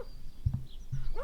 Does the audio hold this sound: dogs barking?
yes